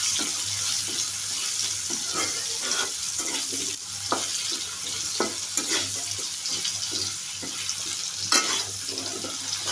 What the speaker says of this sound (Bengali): একে একে সবজিগুলো ভেজে নেব। প্রথমেই আলুগুলো দিলাম।